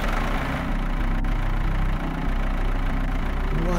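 A tractor engine runs in a horror video game, a loud, low, steady idling rumble lasting a few seconds with no talk over it.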